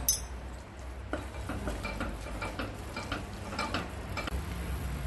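Spoon stirring mushroom risotto in a pan after salt and pepper go in, with repeated light metallic scrapes and taps against the pan over a steady low background, fairly close and moderately quiet.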